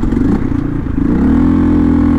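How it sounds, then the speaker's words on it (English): A Hero Xpulse motorcycle strains in third gear while riding off-road in Ladakh, the engine loud and close with a rough, labouring drone that steadies and rises slightly in pitch as it holds the load. "Third gear is a gear where this bike is mustering up whatever torque it can produce right now."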